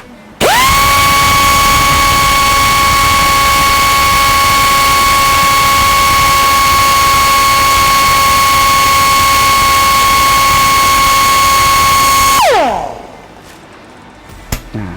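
Shrill, steady whine of a U1625 air-powered die grinder running close by for around twelve seconds before winding down to quiet.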